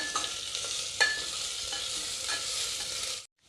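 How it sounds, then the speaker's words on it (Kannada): Ginger garlic paste frying in a pan, with a soft continuous sizzle broken by a few spoon scrapes and clinks, fairly faint and close, ending abruptly in silence. "ಇದನ್ನು ಸ್ವಲ್ಪ ಫ್ರೈ ಮಾಡ್ಕೋಬೇಕು, ಶುಂಠಿ ಬೆಳ್ಳುಳ್ಳಿ ಪೇಸ್ಟ್."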